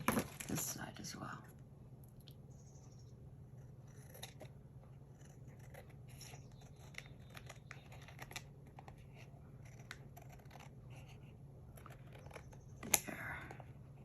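Quiet snipping of scissors trimming paper for a junk journal, a cluster of cuts at the start and occasional clicks later, over a low steady hum with faint breathy sounds.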